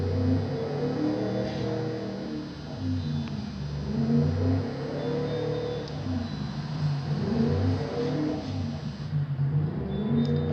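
Car engine revving steadily in first gear on a freshly built engine with a high idle around 1100 RPM, a close, continuous rumbling drone that rises and falls gently throughout without talk.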